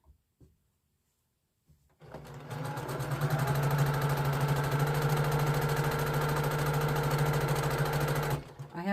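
A sewing machine starts after a couple of quiet clicks and runs steadily at close range with a fast, even mechanical whir for several seconds before stopping.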